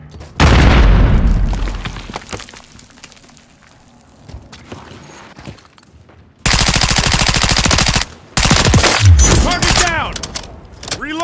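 Call of Duty: Modern Warfare III combat, with a loud blast from a thrown grenade followed by quieter stretches and then bursts of rapid automatic gunfire, close and intense.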